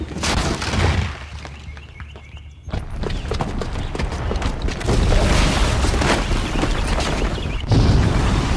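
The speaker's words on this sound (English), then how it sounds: "the booby trap on the bomb downstairs is gonna get set off" A booby-trapped bomb going off in Horizon Zero Dawn: deep, rumbling booms roll into a dense, continuous roar of blast and debris that stays loud throughout, with crackling bursts layered over it.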